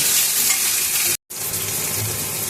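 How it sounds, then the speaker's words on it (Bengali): Spice paste for a jackfruit curry sautéing in a pan, a dense, loud, close sizzle with stirring, broken only by a momentary cut of silence midway. "ভালোভাবে মশলাটা কষিয়ে নেব।"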